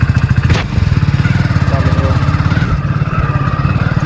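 A motorcycle engine chugs with a rapid, even pulse while riding in light rain, loud and close, with one brief sharp noise early on.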